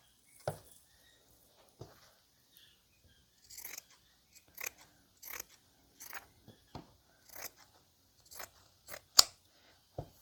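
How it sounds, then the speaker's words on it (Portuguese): Pinking shears snip through fabric while the edge is trimmed for a rag doll's hat, giving sharp, crisp cuts heard up close and spaced irregularly with short pauses between them. "Agora eu tô fazendo com a tesoura de picotar."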